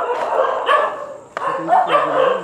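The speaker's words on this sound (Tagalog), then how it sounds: "Kasi daming aso eh." Several dogs bark and yelp over one another, loud and close, in overlapping bursts with a brief lull in the middle, in an abandoned village in Bulacan, Philippines.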